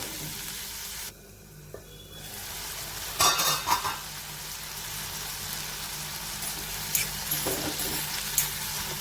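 Onion and tomato for chutney cook in a pan, giving a steady close sizzle with a few scraping, stirring clatters over a continuous hiss.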